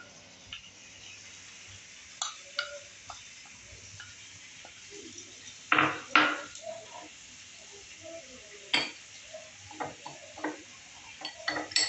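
A spoon stirs a cornflour slurry in a bowl, giving sparse, quiet clinks and scrapes with a few sharper taps spread across a calm background.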